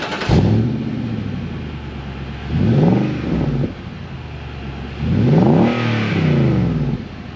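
A Nissan Y62 with a Dash exhaust midsection is revved twice in a workshop, each burst rising and falling over a steady deep idle rumble, heard up close near the exhaust.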